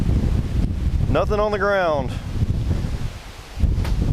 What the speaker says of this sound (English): Like I said, it's quite windy